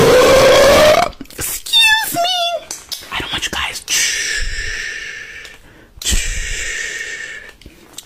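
A burp rings out loud at the start, followed by whispery breathy sounds, snorts and short bursts of voice in a noisy mix.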